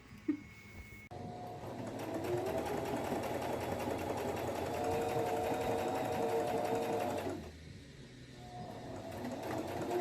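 A sewing machine stitches flannel fabric for a pair of pants, running in one continuous close, steady whirring burst for several seconds before stopping, with quieter room sound before and after.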